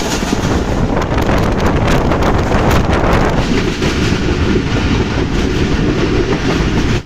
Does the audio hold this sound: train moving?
yes